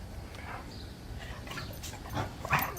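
A dog gives faint yips and whimpers and one short louder bark near the end, with some distance and room noise underneath, and no talking.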